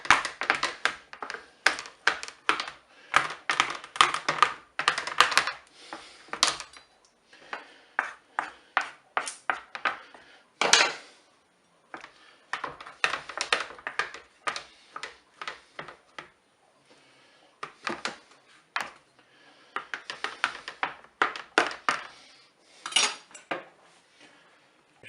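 A large knife repeatedly chops eggplant flesh on a board, a fast run of sharp close taps in bursts with short pauses, no talk.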